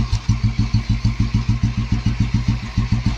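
An old Royal Enfield Bullet G2 motorcycle engine idles close by, a steady, deep thumping beat with evenly spaced single-cylinder pulses, loud and unbroken.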